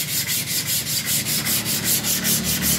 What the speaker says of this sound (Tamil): இது மாதிரி நம்ம எமரி பேப்பில் தேய்கிறப்போ அந்த பஃபிங் கோட்லாம் போயிடும்